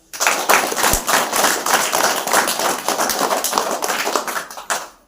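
An audience claps loudly and steadily for parents and young children at a student gathering, a dense sustained round of applause that fills about five seconds before fading out at the end.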